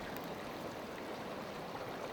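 A raging creek rushes steadily nearby, a continuous broad wash of flowing water heard on its own without any speech.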